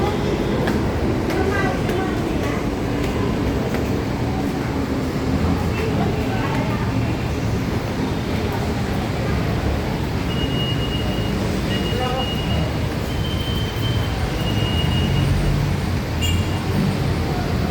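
Loud, steady rail rumble of an MRT elevated metro train running past in Pasay City in the early morning, with a dense low roar and some high squeals, voices faintly mixed in.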